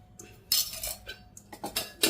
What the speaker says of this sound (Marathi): तर आता हे मस्त असं परतून घ्यायचं आहे आपल्याला